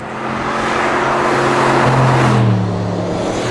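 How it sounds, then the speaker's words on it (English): A 2025 Aston Martin Vantage V8 with a loud exhaust roars close by, its engine note swelling steadily and holding strong before easing off near the end, with no talk. "One thing this car does is make great"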